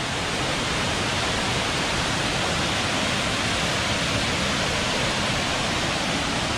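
The 82-metre Kürekli waterfall near Bursa roars as a loud, constant, broadband rush of falling water, close and unbroken, with no voices.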